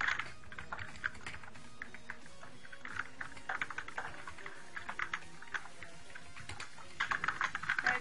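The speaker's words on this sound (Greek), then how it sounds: "Sorry, άμα ακούγεται το πληκτρολόγιο." Someone types on a computer keyboard during an online game session, with quiet, rapid clicking and tapping in uneven bursts that get busier toward the end, and no clear talk.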